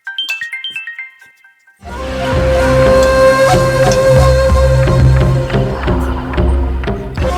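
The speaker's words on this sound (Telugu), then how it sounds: "నాకు ఫోన్ వస్తుందమ్మా" A mobile phone plays a brief, bright ringtone of quick descending chiming notes. The ringing then gives way to loud, steady background music.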